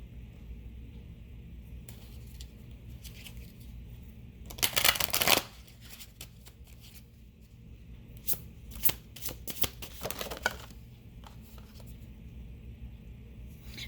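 Tarot cards shuffled close by in soft, sliding, riffling bursts, with a louder flurry partway through and quieter scattered flicks after it, over a low steady background hum and no talking.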